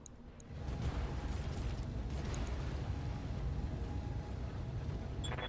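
Weapon fire and an explosion in the Battletech video game, a sudden deep rumbling blast that swells and holds as a heavy roar for several seconds, then fades, with no talk over it.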